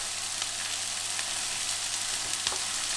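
Turkey leg with vegetables, curry and turmeric frying hard in a pan, a steady dense sizzle throughout with a few faint pops and stirring clicks, close and even, no voices.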